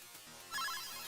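A phone ringtone chirps in a bright repeating pattern during Maximum Carnage gameplay on the Sega Genesis, growing louder halfway through over steady game music, with no talking.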